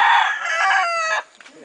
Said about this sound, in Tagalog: Mga manok, kukuhanan mo.